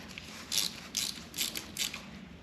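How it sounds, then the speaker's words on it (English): Ratcheting as a Loctite-coated bolt is threaded in and snugged on a Yamaha FZ during water and oil pump installation, four short clicking bursts close by with brief pauses between. "Let's go ahead and thread it in and torque it to spec."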